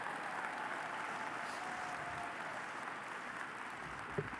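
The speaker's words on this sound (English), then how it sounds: "How about another round of applause for our veterans?" A convention crowd applauds veterans at the 2016 Texas Democratic Convention, producing a steady wash of clapping that sounds distant and somewhat muffled.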